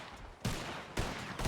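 Gunfire in the WildRP roleplay video game, with three broadband blasts spaced about half a second apart, each sustaining a loud burst of noise.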